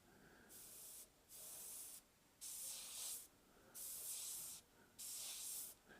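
Double action airbrush spraying paint in five steady bursts of hissing air, each about a second long, with short silent gaps between them, close and clear, no talking.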